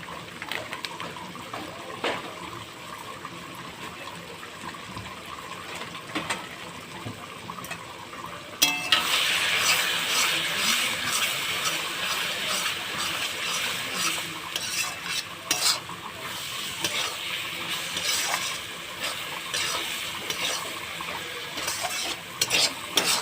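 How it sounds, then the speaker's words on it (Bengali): Spice paste of ground coriander, cumin and red chilli stir-frying in oil for a Bengali bhola fish curry with potatoes, a steady loud sizzle with scraping stirs in the pan, intensifying partway through, with no talking. "মশলাটা কষানো হয়ে গেছে তেল ছেড়ে দিয়েছে"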